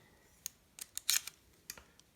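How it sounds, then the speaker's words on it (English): Spring-loaded scissors on a Gerber Center-Drive Plus multi-tool opening up, a quiet run of several sharp metallic clicks and snaps spaced over about two seconds, close up with no talking. "Spring-loaded scissors on the Center Drive Plus."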